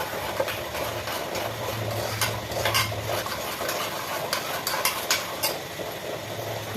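Homemade soap mixture bubbling in a pot while a spoon stirs it steadily, with soft scraping and faint sizzling hiss throughout; no one speaks.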